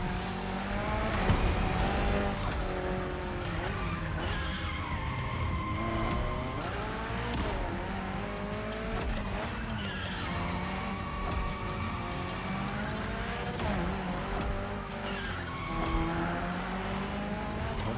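Tires squeal and an engine revs hard as a car slides sideways through a gymkhana course in The Crew Motorfest, with continuous loud tire noise and engine pitch rising and falling throughout.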